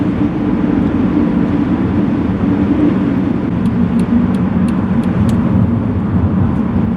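Steady, loud wind roar from a roof rack on a Volvo being driven, a broad constant rush inside the cabin with a few faint ticks near the end.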